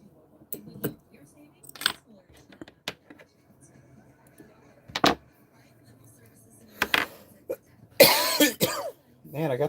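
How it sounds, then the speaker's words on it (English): Several short, sharp coughs spread through the clip, close and fairly loud, with a heavier burst near the end and some faint background noise. "Man, I got this cough."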